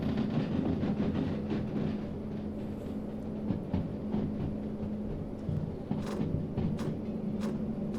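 Locomotive running in the Derail Valley train simulator game, a steady rumbling roll with rhythmic clicks and a few sharp metallic clanks toward the end, fairly close and continuous with no talk.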